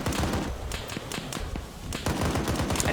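Sustained automatic gunfire in Arma 3 during a Zeus defense operation in Georgetown: rapid, overlapping bursts of shots, some near and some farther off, ringing continuously over a dense battle rumble with no talking.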